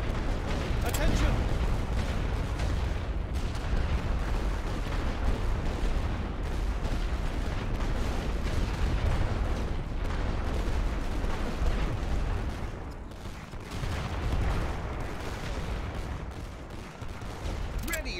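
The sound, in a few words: artillery and gunfire in the video game The Great War: Western Front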